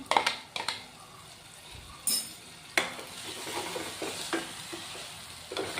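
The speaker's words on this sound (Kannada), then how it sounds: "ನೋಡಿ ಇದು ಕೂಡ ಎಣ್ಣೆ ಬಿಟ್ಕೊಳ್ಳೋವರೆಗೂ ನಾವು ಇದನ್ನು ಹುರ್ಕೋಬೇಕು" Finely chopped tomatoes fry in oil for palak paneer while a spoon stirs them, giving a soft sizzle under scraping strokes and a few metallic clinks of utensil on pan, close by and without talk.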